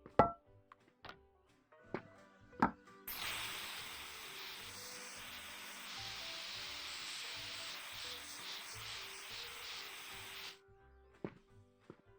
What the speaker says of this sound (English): Does that mean I can spray paint this?